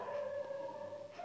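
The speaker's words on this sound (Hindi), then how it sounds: "भाई अब कुत्तों का भौंकना बंद ही नहीं होगा" Sustained dog howling, a steady drawn-out tone that wavers slightly and rises again at the end, with no talking.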